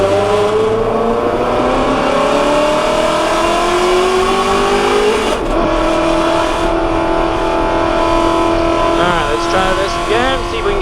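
Ford Mustang GT350 at full throttle on the Circuit of the Americas track, a loud sustained engine roar climbing in pitch through the revs, with a brief shift and an instructor's voice talking over it.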